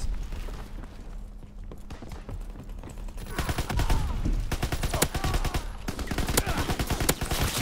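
Unsuppressed Call of Duty WW2 gunfire starts as scattered shots, then turns into dense, rapid bursts of automatic fire with a continuous battle din.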